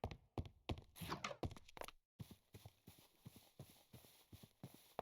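Horse hooves clip-clop in Minecraft, a crisp rhythmic series of close hoof thuds, preceded by a short burst of busier in-game sounds and a brief gap of silence.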